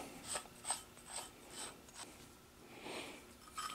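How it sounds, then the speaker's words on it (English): A spanner wrench tightening the nut on a surface grinding wheel hub, heard as a few soft, close metallic clicks and ratcheting scrapes that are spaced out and faint against quiet room noise. "I use the spanner wrench to tighten the hub"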